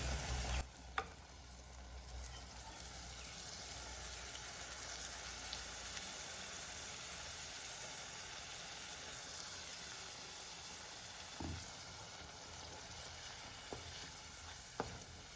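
A ground coconut paste poured into hot oil with fried raisins, giving a steady faint sizzle that runs throughout, with a few sharp clinks and taps along the way.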